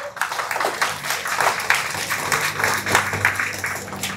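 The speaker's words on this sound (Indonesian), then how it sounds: "Mari kita berikan aplaus untuk JPPK." Applause from an audience at the anniversary celebration of YPPK Tillemans, a Papuan school foundation, steady clapping sustained throughout at moderate loudness with faint crowd noise underneath.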